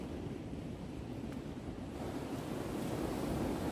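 Sea waves at Agonda beach in Goa make a steady, soft surf wash with light wind noise, distant and continuous with no voices.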